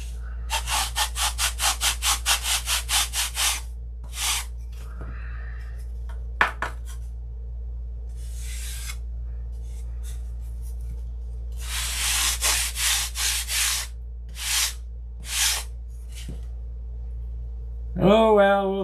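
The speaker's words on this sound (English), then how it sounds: "I'd have to sand it." Someone sands the rudder of a Sig Magnum model airplane in quick, close back-and-forth strokes. The strokes come in rhythmic bursts separated by pauses, over a steady low hum.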